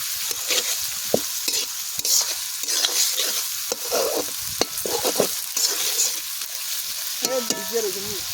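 Sliced onions frying in oil in a pan, sizzling steadily while a utensil scrapes and stirs them in irregular bursts. Near the end, a brief melodic tone rises over the cooking noise.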